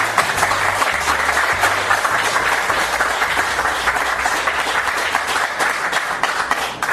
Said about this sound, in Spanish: Vamos a alabar con nuestras palmas a Cristo Jesús.